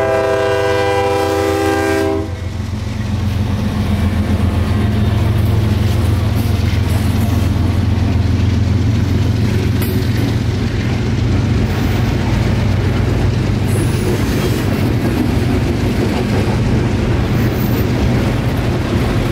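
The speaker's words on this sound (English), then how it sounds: "3 engines on the juice train, not a common sight these days, especially with 12 cars of orange juice" A freight train pulled by three locomotives hauls twelve orange juice cars past at close range, a loud horn blast opening over steady rumbling engines and rolling wheels that continue throughout.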